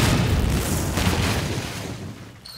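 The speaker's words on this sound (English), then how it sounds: "He who reads this fortune shall explode." A cartoon explosion bursting from a fortune cookie: a loud, broad boom that rumbles and slowly fades over a couple of seconds, with no talking.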